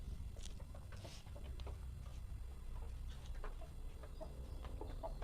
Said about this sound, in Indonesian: Nah, ini ayam yang mau mengeram, itu saya taruh di sini